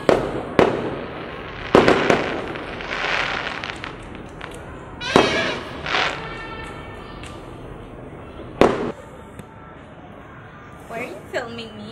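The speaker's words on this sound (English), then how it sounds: "she's scared of the fireworks" New Year fireworks in the Philippines, several sharp booming bursts at irregular intervals, some loud and close with crackling tails, with people talking underneath.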